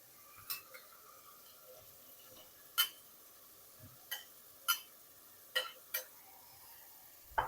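A spoon clinks and scrapes against a pan as keema is stirred into fried masala, with sparse, quiet, irregular taps and short metallic knocks over a faint background.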